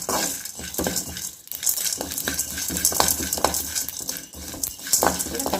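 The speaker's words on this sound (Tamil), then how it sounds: "இப்போ சேர்த்து எல்லாத்தையும் நல்லா பொரிச்சுக்கிடுவோம்" Sesame seeds and spices fry in hot oil for an eggplant gravy, a close crackling sizzle mixed with a spoon scraping and clinking against the pan.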